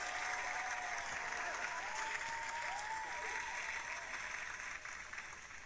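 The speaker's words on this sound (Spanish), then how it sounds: "este aplauso es para ustedes" A crowd applauds in a dense, continuous patter from start to finish, fairly even in loudness and tapering slightly near the end.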